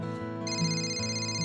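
A phone ringtone trills in a steady, repeating electronic pattern, clear and moderately quiet, with nothing else heard alongside it.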